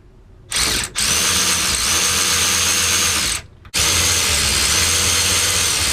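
Power tool driving the brake caliper bolts on a Lotus Elise S2 during a rear brake upgrade with AP Racing two-pot calipers, a loud steady whirring drill run that cuts out briefly, then resumes for several seconds, with no talk.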